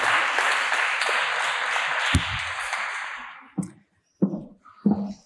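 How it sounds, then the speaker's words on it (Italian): An audience at the European Strega Prize event applauds steadily for about three and a half seconds, then the clapping breaks off into a few scattered claps and small noises. "ancora un applauso"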